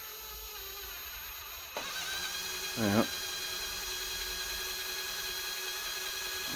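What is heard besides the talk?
power drill drilling through a landing net's plastic spreader block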